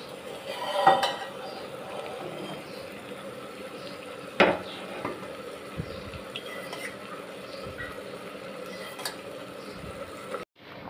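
A spoon scrapes and clinks against a pot while cooked spinach and mashed moong dal are stirred together, with a few sharp metallic knocks over a low simmering background and no talking.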